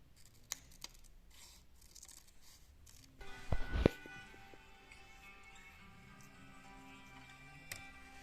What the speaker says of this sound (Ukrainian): Із зеленого паперу вирізаємо листочки.